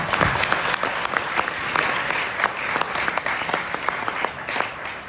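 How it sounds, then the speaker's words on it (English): Audience applause at an awards ceremony, a full, sustained round of clapping from a large crowd with sharp individual claps standing out near the front. "Applause."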